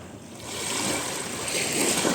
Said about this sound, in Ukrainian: Буду показувати вам побільше видів, побільше шуму моря для тих, хто сумує